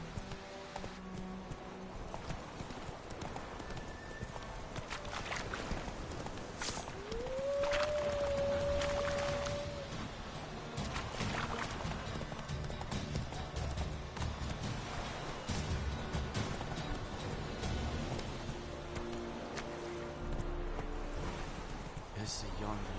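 Horse hooves gallop in The Witcher 3, a steady, fast clip-clop running under game music and a rider's spoken voice, with a brief horse whinny partway through.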